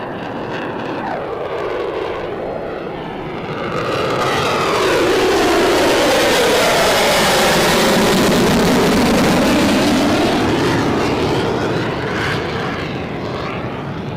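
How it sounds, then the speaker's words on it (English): An F-22 Raptor fighter jet makes an overhead pass at the Pacific Airshow in Huntington Beach, California. Its roar swells to a loud, sustained peak with a sweeping pitch shift, then slowly recedes. "the F-22 Raptor just flew overhead."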